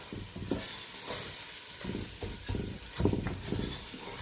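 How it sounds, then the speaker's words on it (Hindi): Browned onions stirred into a pot of shahi lamb korma, a steady sizzle with repeated scraping stirs of a spoon against the pot, fairly close and moderately loud. "अभी जो हमने प्याज ब्राउन किए थे अब वो हम इसमें डाल देते हैं। उसको अच्छी तरह से चलाते हैं।"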